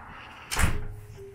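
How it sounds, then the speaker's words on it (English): A single door shuts with a quick, fairly loud thud and brief rattle, close by in a room, followed by quiet. "Shut the door."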